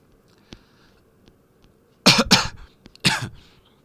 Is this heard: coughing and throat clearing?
yes